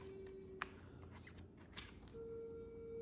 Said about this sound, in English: Shuffling again.